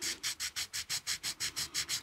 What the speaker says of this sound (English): this is 180 grit sandpaper on the board here.